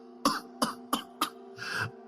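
A woman coughs hard in thick smoke as a staged drama effect: four sharp, evenly spaced coughs followed by a longer, rougher wheezing cough, close and clear with no talking.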